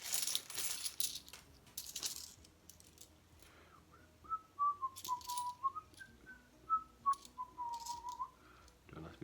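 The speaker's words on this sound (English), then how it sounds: "Why I'm whistling that." Someone whistles a soft, wandering tune indoors while hunting through 50p and £2 coins, with faint coin clinks and small handling taps scattered around the quiet melody.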